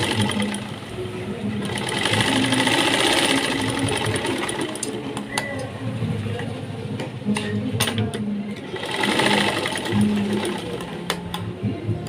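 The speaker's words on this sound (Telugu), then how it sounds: "ఇక్కడ ఫోల్డ్ది బయటికి రాకుండా ఈ విధంగా ఇలా కుట్టేసేసుకోవాలి." A sewing machine stitches the lining of a blouse close by, running in steady rattling bursts with short pauses between them.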